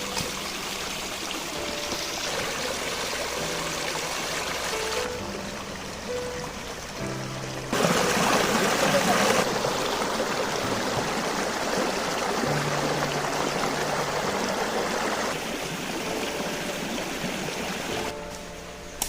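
A waterfall's water pours and rushes steadily in a continuous broadband roar, swelling louder for a few seconds midway, with no voices.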